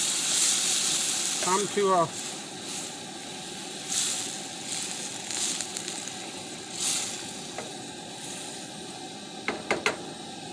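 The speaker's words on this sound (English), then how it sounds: "You can see that it's boiling pretty good on this side." Broth for kielbasa rice with garlic and tomatoes boils steadily in a pan, a continuous bubbling hiss throughout with small clinks, and a brief voice breaks in once near the start.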